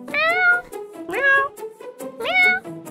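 Cats meow in the Toca Boca Life World video game, three clear rising-and-falling mews close by, spaced about a second apart with short pauses between.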